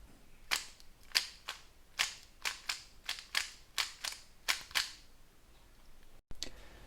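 A quick series of sharp plastic clicks and snaps from a 3x3 Rubik's cube turned with U and M moves, about a dozen in an uneven rhythm, close and crisp against near silence, with a couple more after a brief pause.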